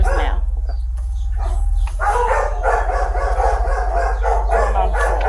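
Several dogs bark repeatedly at a home, close and loud, with yips mixed in over a steady low hum, while people talk nearby.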